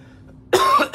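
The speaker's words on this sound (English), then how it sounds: "I had to clear that out my throat." A single short, harsh throat-clearing burst, close and fairly loud, coming after a quiet moment of faint background hum.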